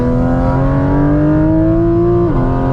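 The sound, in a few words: Porsche GT4 RS engine accelerating on mountain pass road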